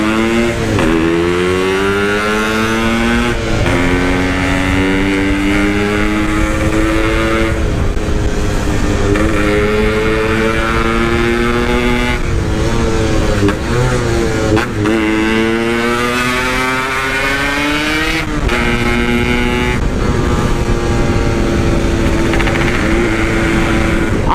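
A Honda GL motorcycle on a night ride revs hard again and again, each rise in engine pitch loud and close, followed by a shift and another climb, over a continuous road rush.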